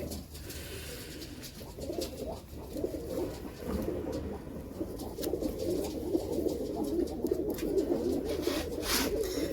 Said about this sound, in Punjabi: ਹਾਂ ਇਹ ਕਬੂਤਰ ਹੀ ਹੈ